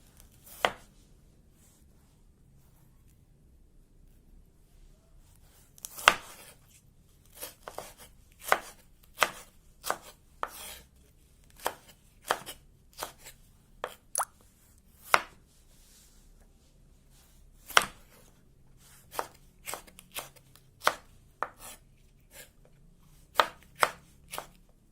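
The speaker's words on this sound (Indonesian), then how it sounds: "dipotong nggak terlalu besar dan nggak terlalu kecil juga" A knife chops food into medium slices on a cutting board in a home kitchen, sharp close taps coming at an irregular steady pace through the whole stretch, with no talking.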